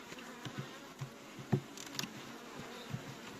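Faint honeybee buzzing hums steadily at a distance around a hive, with a few soft taps and clicks scattered through the quiet.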